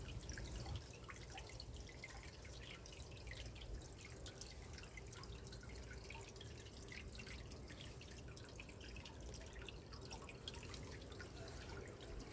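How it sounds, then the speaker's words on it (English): Small backyard water feature fountain trickling and dripping, faint and continuous, with a steady soft patter of droplets under quiet outdoor ambience. "if you listen carefully you can hear the water."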